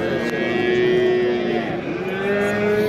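A cow at a livestock market gives one long, loud, steady moo that fills the whole stretch, close by over low market noise, with no talk.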